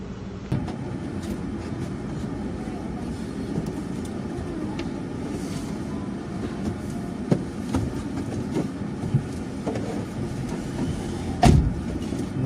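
An online taxi car, a GoCar ride-hailing vehicle, pulls away with a steady low engine and road rumble throughout, a few faint clicks and knocks inside the cabin, and a louder thump near the end.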